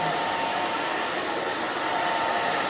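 A hair dryer blows steadily and close during a women's spiky pixie haircut, a continuous loud airy whoosh with an even motor hum and no pauses.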